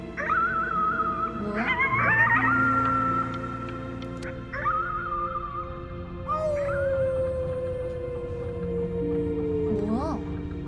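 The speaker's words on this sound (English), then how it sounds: "You howled at the moon at the top of your lungs." A howl in the video game Before Your Eyes, voiced as if at the moon: long wavering tonal cries that rise and fall over several seconds, loud and close, over a steady musical backdrop.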